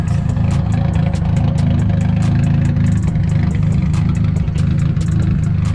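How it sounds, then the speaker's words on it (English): A car engine running rich idles steadily up close, a low rumbling chug with a regular ticking pulse, running on without change. "If you think your car's rich, think again. This is 2 minutes of being idling."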